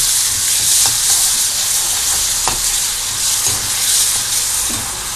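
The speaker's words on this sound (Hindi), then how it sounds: "तो लहसुन और प्याज का पेस्ट हम तेल में डाल रहे हैं और इसको फ्राई कर रहे हैं।" Garlic and onion paste sizzles in hot oil in a pan, a loud steady frying hiss with occasional stirring scrapes, close up and without talk.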